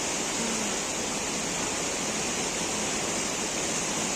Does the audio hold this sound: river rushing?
yes